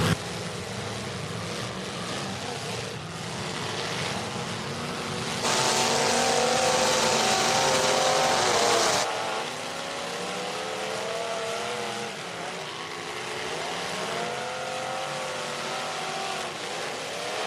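Demolition derby cars in a Pro-Lite heat rev their engines loudly together, a dense roaring drone with rising and falling pitch sweeps and a swell of crowd-like noise midway, heard continuously without talk.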